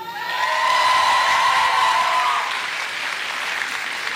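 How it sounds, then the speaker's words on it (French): A crowd breaks into applause, swelling quickly to full, loud clapping with a few whoops and cheers mixed in, then easing slightly while still going strong. "On peut les applaudir."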